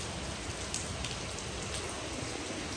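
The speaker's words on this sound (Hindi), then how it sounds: "धूप निकली थी उसके बाद बारिश स्टार्ट हो गई है" Heavy rain pours down in a dense, unbroken hiss that stays at an even, moderate loudness throughout, with no voices over it.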